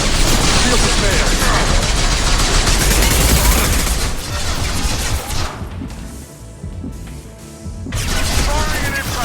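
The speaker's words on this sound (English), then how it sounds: "Firing an impact gun." Impact gun fire in Mass Effect 2, a sustained dense burst of loud rapid shots with crashing impacts, easing off midway before the barrage picks up again; speech faintly mixed in.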